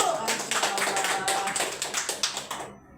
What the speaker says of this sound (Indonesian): Kasih tepuk tangan Bu